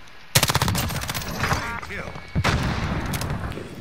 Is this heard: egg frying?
no